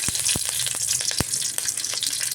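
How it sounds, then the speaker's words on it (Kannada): Crushed garlic and curry leaves fry in oil in a pan for palak gojju, a steady close hiss broken by sharp crackling pops and occasional knocks, with no talk. "ನಾನು ಬೆಳ್ಳುಳ್ಳಿ ಹಾಕ್ಕೊಳ್ತಾ ಇದ್ದೀನಿ. ಹಾಕ್ಕೊಂಡು ಇದನ್ನು ಫ್ರೈ ಮಾಡ್ಕೊಳ್ತೀನಿ."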